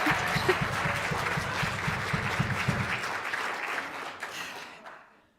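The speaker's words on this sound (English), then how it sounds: "All right, clap." A church congregation applauds during a Christmas service; steady clapping over a rhythmic voice or tone for a few seconds, then fading away to silence.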